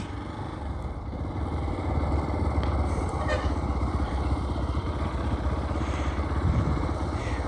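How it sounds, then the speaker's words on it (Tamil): A motorcycle riding across grass with its engine running at a steady, close, loud rumble that stays continuous with a few light clattering knocks. "அப்படியே புல்தரையில் ஒரு ரவுண்டு அடிக்கலாம் அப்படின்ட்டு போகுமா வண்டி"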